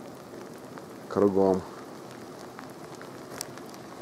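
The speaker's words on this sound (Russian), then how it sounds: "Идет дождь" Rain falls steadily over a mountain village in South Tyrol, making a soft, constant patter, and a voice briefly speaks over it.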